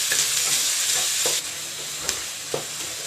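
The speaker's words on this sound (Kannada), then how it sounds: "ನೋಡಿ ಫ್ರೆಂಡ್ಸ್, ಈರುಳ್ಳಿ ಫ್ರೈ ಆಗಿದೆ." Finely chopped onions sizzle in a pan while a spoon stirs them, making a close hissing fry with a few distinct scraping knocks. No one speaks.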